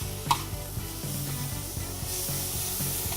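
Diced onion and mushrooms sizzle steadily in a pan on a grill, with rhythmic stirring scrapes and a brief clink near the start, fairly quiet and with no talk.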